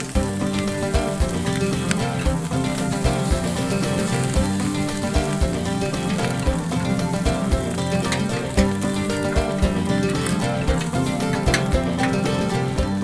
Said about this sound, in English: Spreading the rice out on the grill is going to get it nice and crispy.